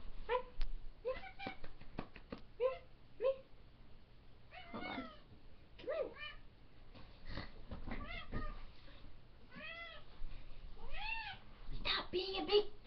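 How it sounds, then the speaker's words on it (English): A cat meows repeatedly, several drawn-out cries close by, while a person talks softly in between. "That's my cat, if you can't hear them."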